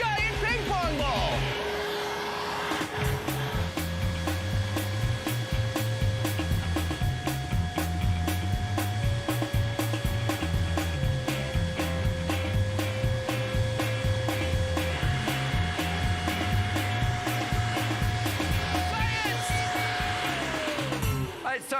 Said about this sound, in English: we have to max it out with a giant hairdryer and a giant ping pong ball.